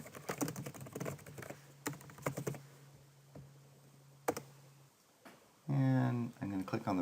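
Rapid clicking of a computer keyboard as a name is typed, bursts of close keystrokes with a few pauses, followed by a short stretch of talking near the end.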